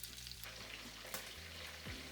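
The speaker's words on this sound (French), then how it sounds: "Il faut frire quelques minutes à feu doux." Mutton bones frying over low heat in a pan, a steady close sizzle and crackle that holds evenly throughout with no talking.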